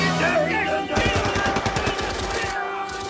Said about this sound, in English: he fired a burst from a heavy automatic at Bond